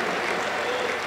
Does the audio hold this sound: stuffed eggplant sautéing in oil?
no